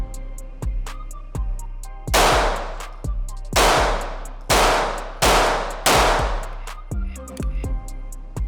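Five loud, sharp shots from an HK CC9 concealed-carry pistol, evenly spaced about a second apart at close range, with faint clinks and handling noise between them.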